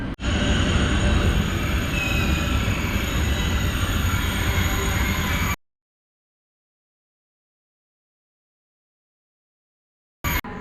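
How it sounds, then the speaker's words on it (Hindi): A TGV Lyria high-speed train rolls into the station with a steady, loud rumble, rail noise and wheel squeal for several seconds, then cuts to near silence before a brief burst of sound returns at the very end. "तो ट्रेन आ गई है, चलते हैं ट्रेन की तरफ"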